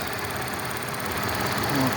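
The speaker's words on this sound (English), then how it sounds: "a shot of your motor as it runs." The engine of a 2015 Audi Q7 runs at a steady idle, producing an even, continuous hum and fine mechanical whir that stays close and constant throughout.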